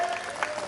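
Applause from a crowd at a Bharatiya Janata Party political rally in India, a brief, steady patter of clapping with no voices.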